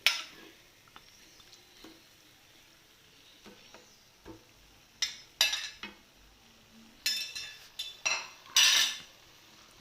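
Washed chicken pieces stirred into masala in a pan for a chicken roast, with a metal spoon scraping and clinking against the pan in irregular bursts, louder toward the end, over a faint sizzle and no talking.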